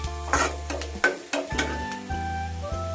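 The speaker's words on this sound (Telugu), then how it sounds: "ఇప్పుడు ఈ మసాలాలన్నీ ఉల్లిపాయలో బాగా కలుపుకోండి." Masala spices being stirred into onions in a pan for Andhra-style chicken majestic, with repeated close scraping strokes over a sizzle and a steady low hum underneath.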